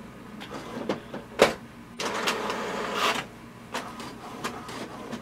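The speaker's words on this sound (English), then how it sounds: "once you click it, it will send a command for printing" An HP DeskJet Plus 4152 printer runs a print job: mechanical whirring and sliding carriage movements, with sharp clicks and clunks at irregular intervals, heard up close.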